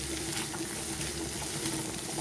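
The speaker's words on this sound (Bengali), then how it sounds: "এরপর দিয়ে দিচ্ছি গ্রেট করে রাখা আদা" Grated ginger frying in hot oil in a pan, a continuous bright sizzle with soft crackling, close and steady throughout.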